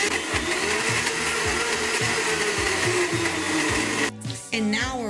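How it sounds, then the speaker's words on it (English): Blender whirring loudly as it mixes a pineapple smoothie, a dense steady motor roar with chunky rhythmic churning, cutting off near the end before a brief restart. "Just put everything in the blender."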